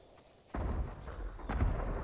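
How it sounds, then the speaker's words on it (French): Heavy booming fireworks blasts erupt suddenly after a quiet start, a dense rumbling barrage with several sharper bursts, loud and continuous, in the PS5 game Ghost of Tsushima's Iki Island expansion. "Des feux d'artifice de toutes parts."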